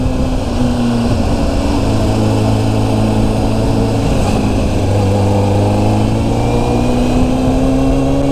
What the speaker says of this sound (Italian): Ah, un'altra moto.